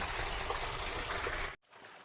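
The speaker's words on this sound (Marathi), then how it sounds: "ठिबक सुरू आहे" Drip irrigation water trickling among garden plants, a soft, continuous watery hiss that cuts off abruptly near the end.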